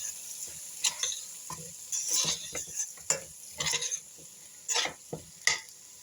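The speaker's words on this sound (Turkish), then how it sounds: "Hepsini beraber karıştırıyorum." A spoon stirs lentils, rice and bulgur in a pot while preparing ezogelin soup, giving repeated scraping strokes against the pot with a faint sizzle and irregular clinks, close and clear.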